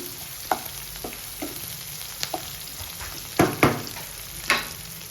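Onion frying in a pan until just pink, with a steady faint sizzle and a few sharp clicks and scrapes of a spoon scattered through, two louder knocks near the middle; no talking.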